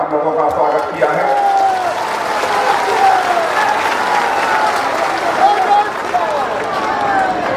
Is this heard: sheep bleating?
no